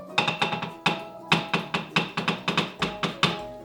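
A whisk beats thick vegan chocolate chip brownie batter in a bowl, giving a quick run of about a dozen sharp, close taps and clacks in an uneven rhythm.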